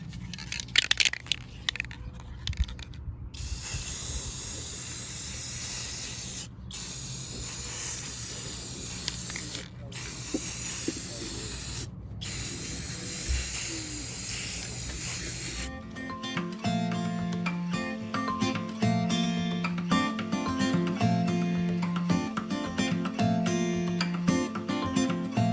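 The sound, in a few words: clear matte acrylic spray can spraying coasters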